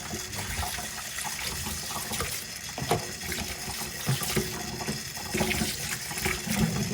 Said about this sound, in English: Same thing, I'm just going to rinse the fungus.